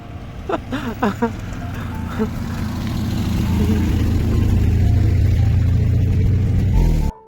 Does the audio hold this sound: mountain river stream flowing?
no